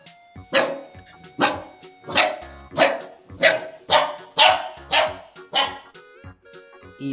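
Dog barking: about eight evenly spaced, clear barks in a steady rhythm, fairly close and alone with no talk.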